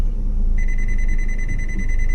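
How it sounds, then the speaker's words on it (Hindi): A Maruti Alto CNG sounds its distance warning, a steady electronic beep tone held continuously over a low engine hum inside the car, loud and close. "ये बीप का मतलब है अभी भी डिस्टेंस आप जा सकते हैं"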